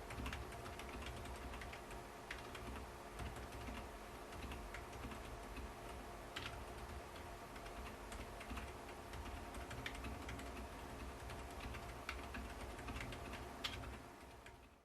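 Steady, muted typing on a Genesis Thor 303 mechanical keyboard with silent switches, soft, dampened keystrokes in a continuous rhythm, close up and fairly quiet, no voices.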